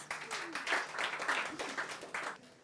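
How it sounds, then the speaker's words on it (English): Applause for a woman named Martina at a public speaking class in Bali, a small group clapping in uneven bursts, modest in volume, with a bit of talk mixed in. "Give her a round of applause"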